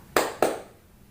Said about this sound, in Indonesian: Tepuk ganda.